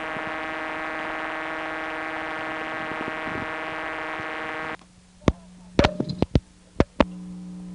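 A steady, harmonically rich electronic CDO tone with hum from a 1976 Bell step-by-step telephone exchange in Martinsburg, West Virginia, hums for several seconds, then cuts off, followed by a few sharp clicks and relay clacks over a low hum.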